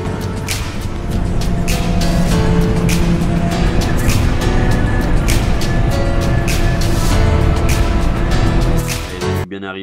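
A loaded truck drives along the road in a steady, loud rolling roar with engine and tire noise close to the microphone, ending in a sudden cut.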